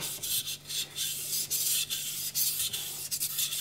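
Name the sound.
knife sharpened on Naniwa Gouken 1000 grit whetstone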